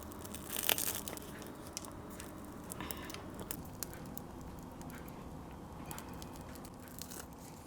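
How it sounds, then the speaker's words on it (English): A crusty homemade Vietnamese bánh mì baguette is broken in half by hand, giving a crackly crunch and tearing of the crust that peaks early, then a softer run of small crackles and crumbs, quiet and close with no talking. "let's break that in half."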